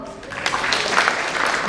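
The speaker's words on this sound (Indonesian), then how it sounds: "Tepuk tangan dulu buat perempuan." Audience at a stand-up comedy show claps for the women, a brief, moderately loud wash of applause building over a murmur of crowd voices.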